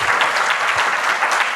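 An audience at a poetry and literature festival applauds with loud, steady, dense clapping that fills the whole moment.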